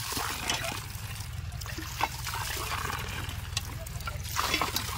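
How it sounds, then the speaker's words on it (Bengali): Water trickles and splashes from a village hand-pump tube well, a steady close gush with a low rhythmic pulse from the pumping and faint background noise. "আবার জলও পড়ছে কল থেকে।"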